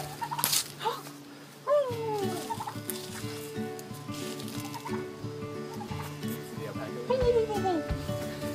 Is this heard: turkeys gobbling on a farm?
yes